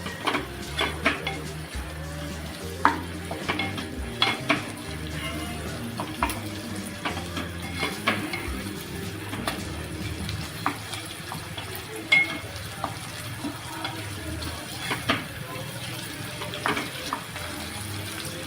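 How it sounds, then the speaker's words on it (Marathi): Onion and tomato sauté in a pan, a continuous sizzle broken by frequent scraping and clinking stirring strokes, close and moderately loud, with no talk. "आता आपण याच्यामध्ये टाकणार आहोत एक टोमॅटो. हा सुद्धा आपल्याला एकदम सॉफ्ट होईपर्यंत परतून घ्यायचा आहे."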